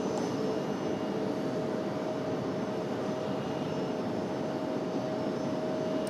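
A Republic Airways Embraer E175LR jet arriving from Nashville gives a faint, steady, distant engine rush with a thin whine, heard alone without talk.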